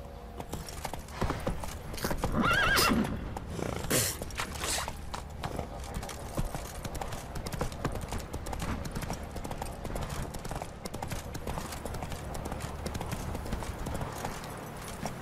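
Horse hooves clip-clop steadily while riding in The Witcher 3, a close, continuous rhythmic trot over a low game-world ambience, with a brief whinny-like burst near the start.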